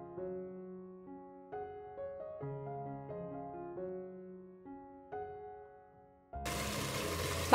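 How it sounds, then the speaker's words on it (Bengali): Water splashes briefly into a cooking pot of spice-coated chicken and fried onions for biryani; it comes as a short, fairly loud gush after a stretch of music, with no speech. "পাত্রটা ধুয়ে একটু পানি দিয়ে দিচ্ছি।"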